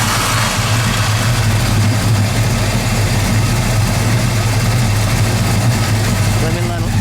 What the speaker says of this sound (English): Let me listen to that idle.